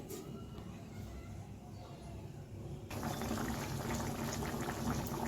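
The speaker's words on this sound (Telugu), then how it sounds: "చికెన్ ఉడుకుతూ ఉంది" Chicken curry simmers in a covered pot over a medium flame, a soft steady bubbling that grows suddenly louder and more hissing partway through, close and alone.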